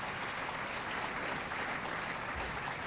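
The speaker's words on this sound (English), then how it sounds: "Gets a good round of applause" A bowling-center crowd at the 1983 Coca-Cola Championships applauds a double strike, a steady, dense wash of clapping that stays even throughout, with no voices.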